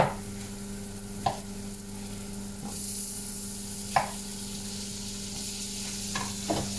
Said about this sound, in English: At this stage, I'm going to grab a little knob of butter.